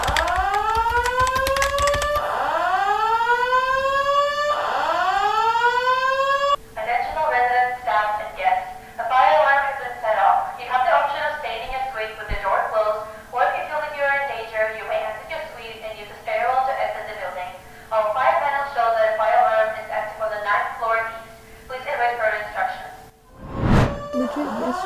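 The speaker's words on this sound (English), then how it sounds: "Yesterday, the fire alarm went off in the evening, now again." A building fire alarm in a residence goes off loudly, opening with rising siren whoops and then shifting into rapid repeating electronic warble tones that continue for the rest of the clip, with a brief break near the end.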